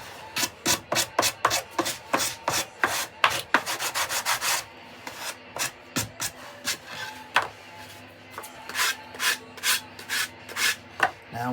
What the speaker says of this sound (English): Now when you do give this a light sanding